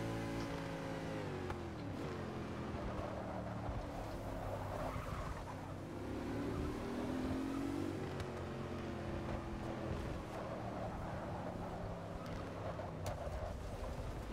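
Steady engine drone of a powerful car racing at night in Forza Motorsport 6 Apex, played on a Logitech G29 wheel, with a continuous rising and falling tone and no talking.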